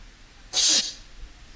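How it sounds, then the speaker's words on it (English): An isolated vocal breath from a background vocal track, a single short, breathy inhale-like hiss standing alone against near silence. "click it, then you can hear only the breath"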